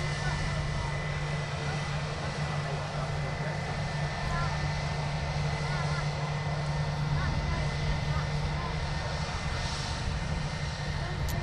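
A fixed-wing airplane's engines drone at a steady, loud level as it taxis at Manchester Airport, a continuous rumble with a persistent low hum throughout.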